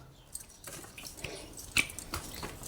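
Indian gooseberries (amla) being rinsed in water, with soft drips and small splashes coming irregularly and close by, a few slightly louder sloshes near the end.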